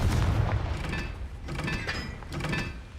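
Fire spell explosions in Hogwarts Legacy, a series of low booming blasts with mechanical rumbling, roughly three bursts over a few seconds, loud and close.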